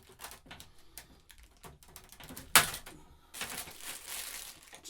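A cable tie is snipped on the box of a Bosch GTS 10J portable table saw, with close plastic and cardboard rustling, a single sharp snap near the middle, then a burst of crinkling packaging.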